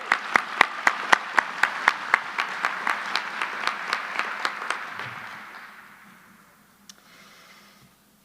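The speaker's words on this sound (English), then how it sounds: "Let's give them a big round of applause." A conference opening session crowd applauds, with a few sharp, evenly spaced claps standing out over a broader wash of clapping that gradually fades to near silence.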